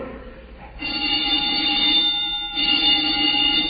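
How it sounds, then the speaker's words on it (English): An alarm bell rings in a radio drama, starting abruptly and holding a loud, continuous electric tone with a brief dip partway through, with no voices over it. "The old woman must have turned in an alarm."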